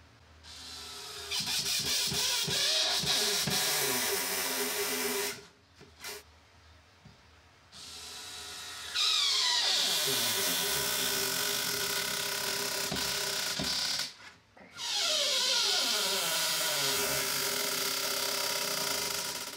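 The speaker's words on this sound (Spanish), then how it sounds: "Comenzamos a atornillar." A power drill drives screws into a wooden chest in three long, loud bursts, each winding up and whirring steadily before cutting off, with short quiet gaps between them.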